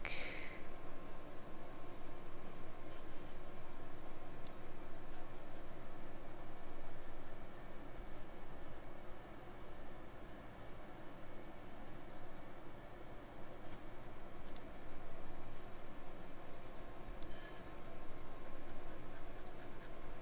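Steel nib of a Jinhao 80 fountain pen scratching across paper, a faint steady scribbling broken by small pauses between strokes, heard close over a low background hiss.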